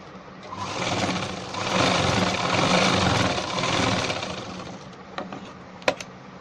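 A sewing machine runs steadily as it stitches a ladies' pant along a marked line, a continuous close whirring hum that swells and eases before stopping with a few small clicks.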